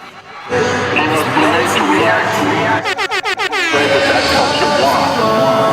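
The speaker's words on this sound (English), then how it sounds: "The individual must get an air horn." A loud air horn blasts in a rapid series of short bursts, then holds, cutting through a noisy crowd with laughter and chatter around it.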